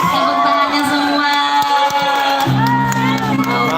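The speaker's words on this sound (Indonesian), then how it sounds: "Tepuk tangannya semua." An audience at an outdoor show in Maros, South Sulawesi, cheers and shouts loudly, with many overlapping voices whooping continuously and close throughout.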